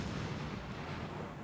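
Small dynamite blast in the video game Rake Insane, a loud, dense, rumbling burst that fills the moment and decays over about a second and a half.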